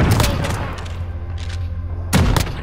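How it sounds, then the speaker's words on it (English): Explosions and gunfire in Call of Duty: Modern Warfare multiplayer, with sharp bursts near the start and a loud blast near the end, dense and close. "Oh, grenade."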